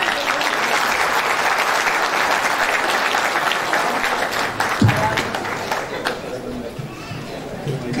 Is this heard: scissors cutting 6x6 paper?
no